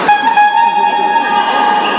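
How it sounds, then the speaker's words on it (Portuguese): A basketball game buzzer sounds as one loud, steady electronic tone with a rich, harmonic edge, holding for about two seconds in an indoor arena during a regional match. "Tocou a buzina."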